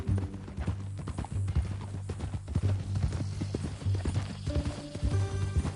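A horse's hooves clip-clop at a steady walking rhythm in Red Dead Redemption 2, close and distinct over a low droning background, with a faint whinny-like sound in the mix.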